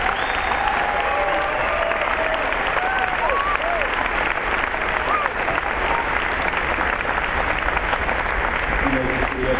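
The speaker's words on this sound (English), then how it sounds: "Please give them a round of applause." A crowd at a high school graduation ceremony applauds steadily, broad, continuous clapping filling the hall, with a few faint whistles and cheers scattered over it and some murmured voices underneath.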